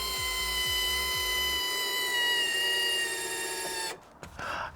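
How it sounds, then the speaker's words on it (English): Electric linear actuators bolted to the side of a pool raise the pool cover's apex with a steady, close mechanical whine for about four seconds, then fall quiet. "would the activators lift the cover apex up and down safely when bolted to the side?"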